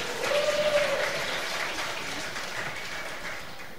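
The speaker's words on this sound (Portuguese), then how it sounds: "Vamos dar uma salva de palmas para o Rafael." A church congregation applauds for Rafael, a moderate, fairly even patter of clapping that slowly fades, with a faint sustained tone early on.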